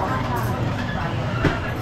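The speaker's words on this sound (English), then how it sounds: "they've still got the train thing going round" Low rumbling rattle of a small model train running steadily on its track around a restaurant, mixed with diners' chatter and background voices.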